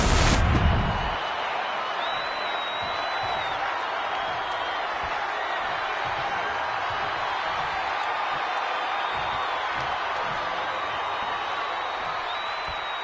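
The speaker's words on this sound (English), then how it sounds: "This crowd coming alive for Stone Cold Steve Austin." A wrestling arena crowd roars steadily as Stone Cold Steve Austin makes his entrance, a dense, continuous wall of cheering that holds at full strength for the whole stretch after a brief loud opening burst.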